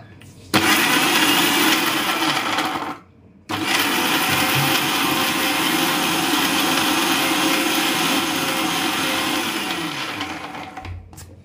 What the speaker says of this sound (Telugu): ఇవన్నీ వేసుకున్నాం కదా, మిక్సీ పట్టుకుంటున్నా.